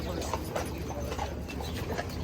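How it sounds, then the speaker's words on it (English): A horse-drawn buggy on Mackinac Island, hooves clip-clopping in a steady trotting rhythm, moderately near beneath outdoor crowd murmur and voices. "Horse and buggy ride."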